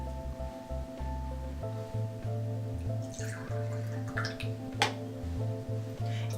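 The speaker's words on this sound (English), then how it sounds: "I'm going to fill them with water." Water is poured into two laboratory beakers, a faint splashing trickle that rises in the middle of the stretch over a steady low background hum.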